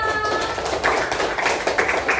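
Children in a sixth-grade coding class clap their hands together, a dense, steady patter of many overlapping claps that swells after a short quieter start and keeps going to the end.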